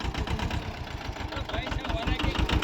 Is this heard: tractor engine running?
yes